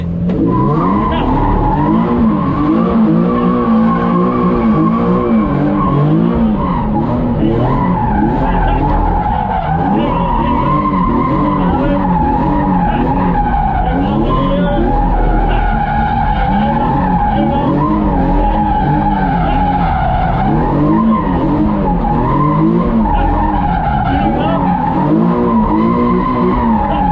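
A car drifts after a clutch kick, and its tires skid and squeal almost continuously over a steady engine drone, loud and close, with occasional voices.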